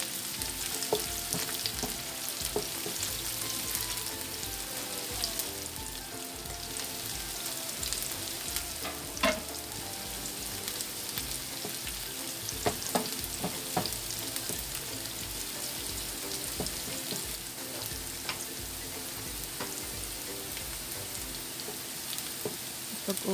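Garlic frying in a pan while cooking sweet and sour tilapia, a steady close sizzle with stirring scrapes throughout and no talk.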